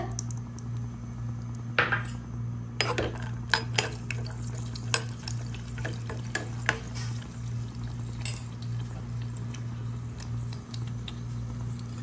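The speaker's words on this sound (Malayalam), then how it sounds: "ഇനി നമുക്ക് കശുവണ്ടിയും ഉണക്കമുന്തിരിയും വറുത്ത് കോരാം." Cashews and raisins fry in a spoonful of ghee in a pan, with sharp spoon clinks and scrapes scattered over a faint sizzle and a steady background hum.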